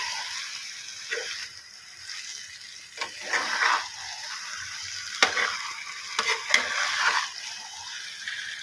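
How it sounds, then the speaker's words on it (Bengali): Paneer stirred in a sizzling pan while cooking palak paneer, with steady frying hiss and repeated scraping and clacking of the spoon against the pan, sounding close and busy throughout. "পনিরগুলো দিয়ে নাড়াচাড়া করে"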